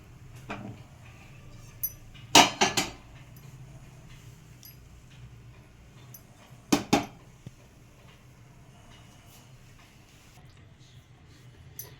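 Dishes and utensils clink as bean tomato biryani is plated: two sharp clusters of metallic clatter, the first at about two seconds and the second around seven. Quiet kitchen background sits between them, and no one talks.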